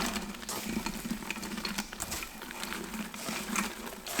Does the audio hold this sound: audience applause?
no